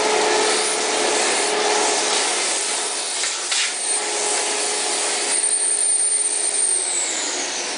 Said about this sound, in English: I'm going to turn the vacuum on with high suction, turn it on a manual, and collect all this up.